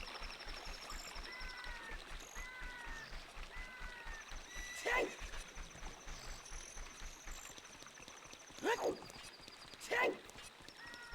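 Epona, the horse in Zelda: Ocarina of Time, whinnies in game audio, with repeated clip-clop hoof beats, a flowing stream and chirping birds. Three sharp neighs rise clearly above the ambience, and a voice is faintly present.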